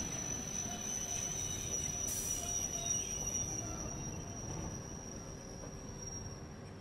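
A train brakes to a stop at a tight-fitting station platform, with a steady high-pitched wheel squeal running throughout over a continuous low rumble of rolling stock, fairly loud and close with no talking.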